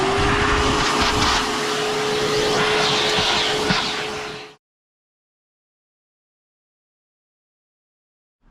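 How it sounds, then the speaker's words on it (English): A vacuum cleaner runs with a loud, steady whine and roar for several seconds, then stops abruptly, leaving silence, while cleaning the interior of a BMW 135i car. "Now let's vacuum this mess."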